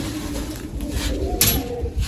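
Pigeons coo softly and steadily in a loft, with a brief rustle partway through and no one speaking.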